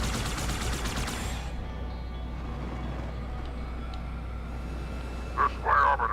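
Gunfire in Halo 2 Anniversary: a burst of rapid shots at the start, then a low rumbling background with scattered faint pops and a louder crackling burst near the end, no talk.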